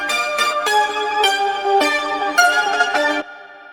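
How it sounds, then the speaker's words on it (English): A gritty, distorted, high-pitched melodic sample plays in short chopped bursts, loud and alone, then cuts off abruptly near the end. "And then there's some distortion."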